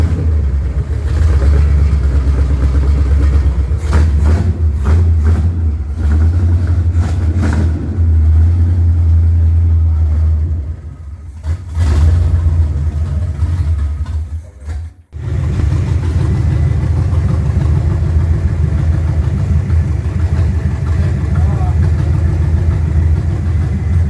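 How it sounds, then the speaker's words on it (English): A junkyard Chevrolet Nova engine, running rough on seven cylinders, rumbles loudly and steadily up close, with a few revs and two brief dips where it nearly stalls before picking back up. "It's nighttime, and we made smoke, and the engine runs."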